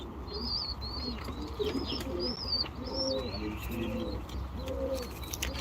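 Pigeons coo in repeated low, throaty phrases, with high chirps from other birds scattered over them; the birds sound close.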